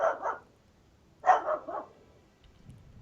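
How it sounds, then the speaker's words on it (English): A dog in the video game Dragon's Dogma barks in two bursts, a short double bark, a pause, then three quick rough barks close by, fading into quiet. "Bark, bark, bark."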